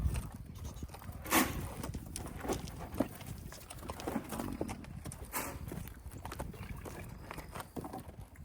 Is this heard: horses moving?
yes